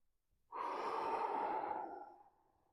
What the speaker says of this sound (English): you'll take a big breath at the top of the position and long exhale as you go down